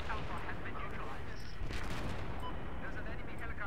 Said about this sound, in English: I'm at Bravo taking sniper fire.